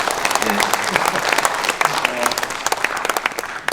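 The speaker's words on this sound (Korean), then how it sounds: "큰 박수 한번 쳐주시죠." Warm applause from the audience at a book launch event for former Namhae county head Jeong Hyeon-tae, many hands clapping close by with sharp individual claps standing out, plus a few overlapping voices.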